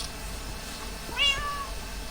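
A cat meows once in Minecraft, a short clear in-game mew standing alone over a faint steady background.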